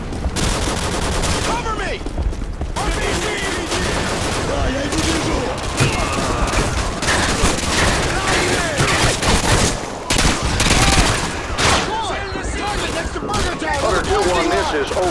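Sustained gunfire from Call of Duty 2 on Xbox 360 rattles without pause: dense bursts of rifle and machine-gun shots with booming impacts, loud and close, while a voice shouts briefly over the battle.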